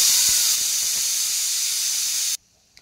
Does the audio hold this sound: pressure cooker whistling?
yes